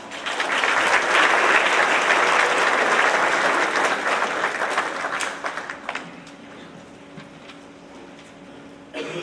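An audience claps steadily at a middle school awards ceremony in a hall. The dense applause holds for about five seconds, then thins out and dies away to scattered claps and a quiet room.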